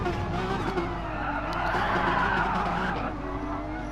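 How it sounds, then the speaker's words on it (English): A race car slides sideways with tyres skidding in a touring car racing video game at Bathurst, a continuous loud engine-and-tyre roar holding steady for a few seconds before easing slightly at the end. "And Josh going sideways there."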